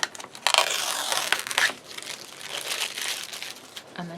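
Tape backing being peeled and crinkled by hand while assembling a craft album cover, a few sharp crackling bursts near the start then softer rustling, close and fairly quiet with no talk.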